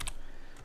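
Quick bursts of keystrokes on a computer keyboard while entering a Bash command, a short cluster of clicks, a brief pause, then another cluster, close and crisp.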